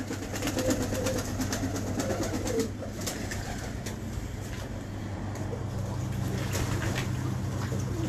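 Pigeons cooing in soft, repeated low warbles over a steady background hum, moderately near and continuous throughout.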